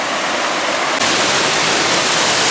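Rainbow Falls in Gorges State Park pours in a loud, continuous roar that swells abruptly fuller after the first second, with no one talking.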